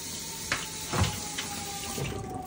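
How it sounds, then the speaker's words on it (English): Tap water runs into a kitchen sink as pasta is washed, a steady close splashing stream with a few louder gushes and clatters. "Washing pasta before cooking it in front of my Italian roommate."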